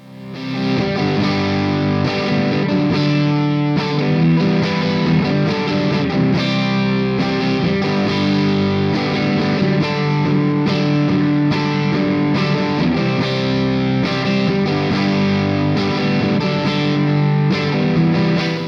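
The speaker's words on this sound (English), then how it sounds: "the more you turn it up, I think the more saturated the gain gets" A heavily overdriven electric guitar through a JOYO Bantamp XL tweed-style amp plays chords and riffs continuously, thick and saturated with crunchy distortion, loud and sustained throughout.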